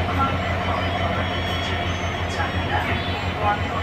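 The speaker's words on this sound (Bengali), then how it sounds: "চিলাহাটি এক্সপ্রেসও ছেড়ে দিল, চিলাহাটি যাচ্ছে ঢাকা" The Chilahati Express rumbles steadily as it departs a station in Bangladesh, low and continuous at a distance, with faint squeaks of metal above it and murmured voices in the background.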